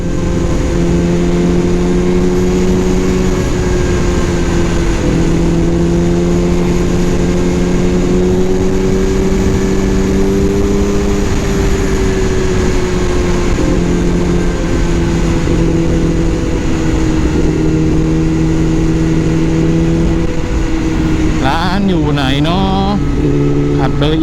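A car engine runs at a steady, loud drone as the vehicle drives along, its even hum holding for about twenty seconds before it briefly revs and shifts near the end.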